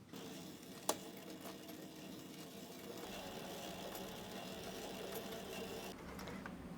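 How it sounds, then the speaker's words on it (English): A sewing machine stitching leather hums steadily at low volume, stitching continuously, with a single sharp click near the start. "Back to the sewing machine."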